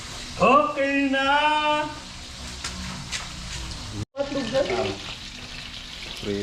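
Steady sizzling of food frying in a pan, a continuous crackle running under a person's voice, briefly cut off near the end before resuming.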